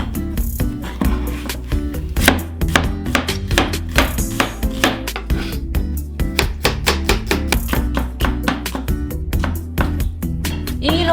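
A knife chops onion on a wooden board with a fast, steady run of close, sharp taps, many strikes spread evenly throughout, under faint background noise.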